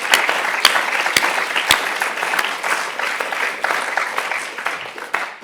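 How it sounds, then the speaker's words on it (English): A conference audience at a geoscience student meeting applauds helpers from partner universities, sustained many-handed clapping with a few sharp, close individual claps standing out near the start, steady and moderately loud throughout. "I'd like to give them a round of applause because they've really helped us out."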